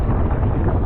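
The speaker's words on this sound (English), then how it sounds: "Absolutely take the piss this wind now." Strong wind buffets a microphone in the Scottish Highlands, a loud, close, rumbling roar that fills the short moment without a break.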